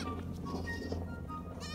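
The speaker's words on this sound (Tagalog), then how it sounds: "Ayan yung mga kambing natin, no?" Goats bleating on a farm, heard as a steady, fairly close bleating texture that runs throughout with some broadband rustle.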